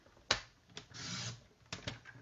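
Card stock for a card base trimmed on a paper trimmer, a few short sliding scrapes and a sharp click or snap, quiet and close with no talking.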